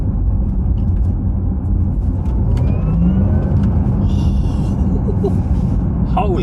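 A car engine revs and accelerates loudly at close range over a steady low rumble, with some speech blended in throughout.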